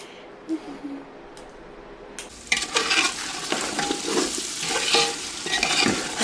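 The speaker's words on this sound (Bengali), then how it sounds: "মাংস দেখুন একদম ভাজা ভাজা করে কিন্তু আমি কষিয়েছি" Meat fries in a pan. After a quiet opening with a single knock, a loud, dense sizzle bursts in and carries on close by, mixed with stirring and the scrape of a utensil against the pan.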